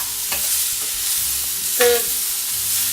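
Onions and tomatoes simmering in a pan over a low-medium stove flame, a steady soft sizzle with occasional spoon scrapes and stirring knocks, close and alone.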